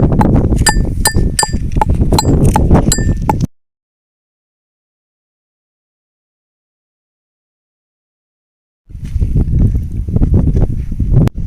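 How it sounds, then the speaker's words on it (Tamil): Tulsi (holy basil) leaves are pounded in a kitchen, with loud rough thudding and clinking strikes close up, broken by a long silent gap before the pounding resumes. "நூற்றி அஞ்சு துளசி இலை இடிச்சுக்கோங்க"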